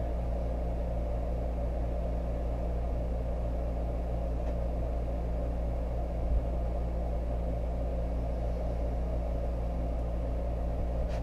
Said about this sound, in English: I'll spin it around some to spread the glue out good